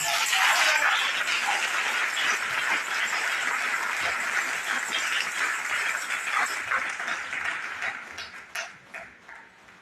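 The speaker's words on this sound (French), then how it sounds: "Vous devez l'acclamer comme ceci." A church congregation bursts into loud applause and cheering during a sermon, a dense, sustained wall of clapping and voices that begins thinning and fading toward the end.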